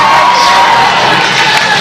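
A wrestling crowd at a live CZW event cheers and whoops loudly in a dense, continuous roar of voices, with no single speaker standing out.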